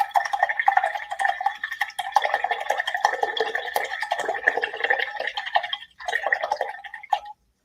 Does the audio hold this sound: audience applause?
no